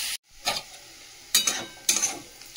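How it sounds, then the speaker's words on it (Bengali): Potato and onion sizzle and fry in a pan, a steady quiet hiss broken by a few sharp stirring scrapes at irregular intervals. "এই যে আলু পেঁয়াজ ভাজা হচ্ছে"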